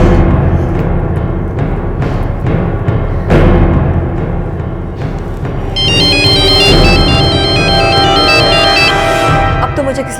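A phone rings with an incoming call in a tense crime-drama scene, its repeating electronic ringtone pattern entering midway over dramatic background music and continuing steadily to the end.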